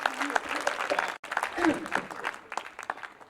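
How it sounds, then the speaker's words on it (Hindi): An audience at a kavi sammelan poetry recital in Indore claps, with a burst of applause broken by a brief gap, under a speaking voice, then thinning out. "एक बार तालियां बजाइए।"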